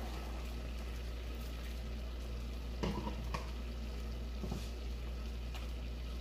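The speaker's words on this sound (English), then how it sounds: "And kind of stir that in." Chicken powder and water being stirred into a simmering pan of pasta sauce for spicy shrimp and spinach pasta; a soft, steady sizzle runs underneath, broken by a few brief scrapes of the spoon against the pan.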